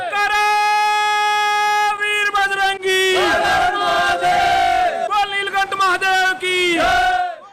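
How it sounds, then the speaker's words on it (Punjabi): Crowd of devotees at a Shiva temple in Punjab shouting praises, loud massed voices rising and falling in surging chant-like waves with sustained tonal calls throughout. "ਮੰਦਰ ਸ਼ਿਵ ਭੋਲੇ ਦੇ ਜੈਕਾਰਿਆਂ ਨਾਲ ਗੂੰਜ ਰਹੇ ਨੇ"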